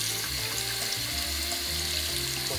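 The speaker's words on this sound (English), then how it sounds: "Let's turn the water on." A sink tap runs steadily, giving a constant, close hiss of water with a faint low gurgle underneath and no voices.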